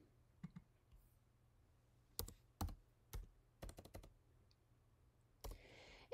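Keys on a calculator are tapped in short bursts, some single presses and a quick run of four or five close clicks, crisp and near in an otherwise quiet room.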